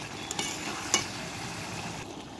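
Spiced masala is stirred in a pan after a small splash of water, giving a steady soft sizzle with faint scraping and a couple of sharp clicks from the spoon. The sound is close and continuous, with no talking.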